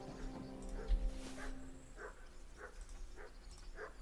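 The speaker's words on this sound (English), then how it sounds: "I hear Mutt barking." The dog Mutt barks in Kingdom Come: Deliverance II, a regular series of short, fairly faint barks from some distance over quiet background game sound.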